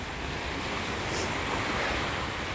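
Ocean surf on a beach in North Naples, Florida, a steady broadband wash of waves with some wind noise across the microphone, continuous and fairly even, no voices.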